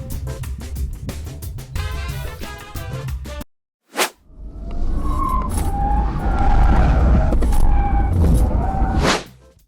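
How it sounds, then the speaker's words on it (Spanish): A 2024 Peugeot e-2008 electric car is driven hard through a slalom test, with loud tyre noise, brief squeals and a whining motor, broken by a short pause partway through. "veamos qué tal se desenvuelve en esta ocasión el Peugeot E2008. Primero en el slalom y después en la esquiva"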